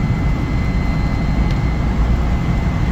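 Inside a moving Jeep TJ, a steady loud low drone of engine and road noise with a constant rumbling roar and little variation, no voices.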